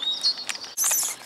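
Bright, high bird chirps and twittering in short bursts near a children's playground, with a brief pause midway before a denser flurry of song.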